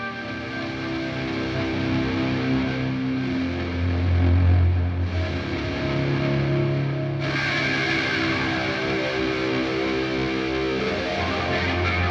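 Ambient electric guitar swells shaped with a volume pedal placed after the amp, sustained layered chords with heavy distortion and effects, blooming like an ominous orchestra, a brighter swell entering midway, steady and loud with no voices.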